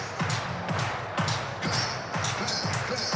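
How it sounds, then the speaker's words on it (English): A baseball stadium crowd at a Rangers vs Dodgers game claps along in a steady rhythmic beat, loud and continuous with a broad roar underneath. "Clap your hands."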